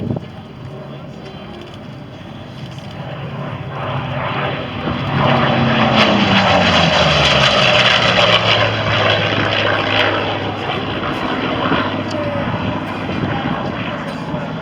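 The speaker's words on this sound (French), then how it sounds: "écouter ces moteurs venus d'un autre âge qui aujourd'hui n'existe que par les collections" A loud vintage Corsair propeller aircraft roars past at an aerobatics air show in Châteauroux, swelling to a powerful peak midway and then holding a heavy droning growl as it moves on.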